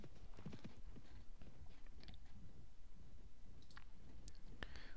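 Hoofbeats of a ridden horse in the Mount and Blade Warband video game, a faint, steady clip-clop rhythm under a constant background bed of game ambience.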